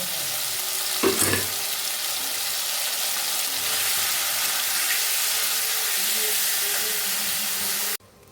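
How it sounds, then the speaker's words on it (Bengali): Chicken fried rice ingredients frying in a pan, giving a loud, steady sizzle throughout, with a brief clatter of stirring near the start and no speech. "দিয়ে নাড়তে নাড়তে ভাজা হয়ে যাবে পুরো"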